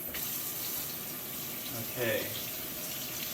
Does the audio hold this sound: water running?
yes